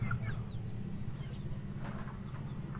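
Chickens cluck softly and intermittently against a steady low background hum, fairly faint and a little distant.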